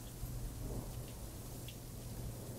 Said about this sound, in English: all at once, the sky calmed, and all I could hear was rain.